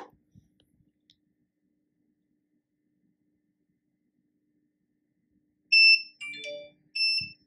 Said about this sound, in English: the buzzer goes off and the LED lights up